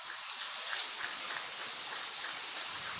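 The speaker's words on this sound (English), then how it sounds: "Fabulous result for Thomas as the rain continues to fall here" Steady rain falls at the LYL International Circuit during a FIA Karting European Championship event, a soft continuous hiss of drops on the surface with no talk over it.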